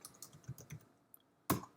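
Keys tapped on a computer keyboard while entering commands at a command line: a quick run of soft clicks, then a pause and one sharp, louder keystroke near the end.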